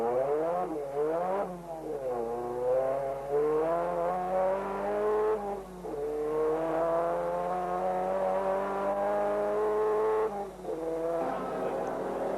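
Onboard at a 1988 production car championship race, the engine of Dave Morgan's car revs hard in repeated rising sweeps, dipping at each gear change and climbing again, with commentary running over it.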